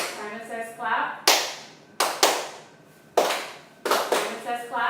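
Single sharp hand claps in a Simon Says game during a classroom teaching session, four or five loud separate claps spaced unevenly between a teacher's spoken commands.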